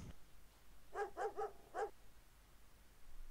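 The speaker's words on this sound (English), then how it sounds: "I hear a dog" A dog in the Full Throttle video game barks four times in quick succession, short clipped woofs at moderate volume against a quiet background.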